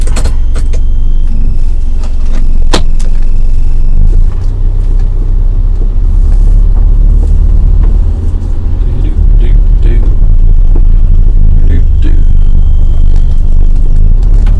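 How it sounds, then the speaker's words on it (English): A security van pulls up with a steady low engine rumble heard close by from inside a parked vehicle, with occasional knocks and jingles over the continuous drone. "here comes the security van"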